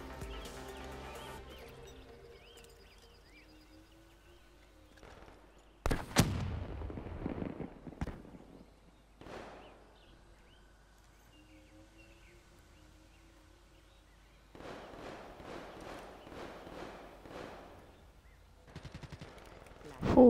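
Gunfire in Black Ops 3 multiplayer Search and Destroy, scattered loud shots and bursts with quieter game effects between them, some rapid clusters near the middle and end, with a player talking over parts.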